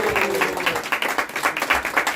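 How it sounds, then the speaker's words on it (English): Audience applause at a recitation and speech competition, a dense steady wash of many hands clapping close by for about two seconds with no voices over it. "So we should give one more round of applause."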